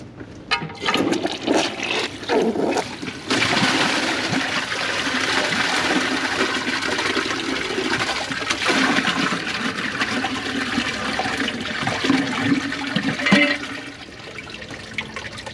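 A Kohler Wellworth Class 5 toilet with a Portrait Lite tank flushes with something placed under the trapway, giving a loud sustained rush of water that builds after a brief start and drains away near the end, close by.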